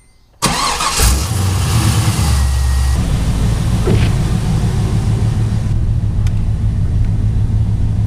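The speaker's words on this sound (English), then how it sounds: "actually run the car and get the engine oil warmed up a little bit" A Nissan 240SX drift car's engine starts abruptly and settles into a steady, loud idle to warm the oil, with a low, even rumble continuing close by and no talking.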